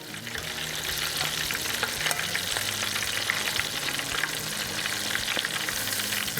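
Shrimp deep frying in hot oil, a steady dense bubbling sizzle that holds at an even loudness throughout with no talking.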